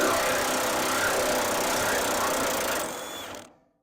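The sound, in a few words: impact wrench removing rusted bolts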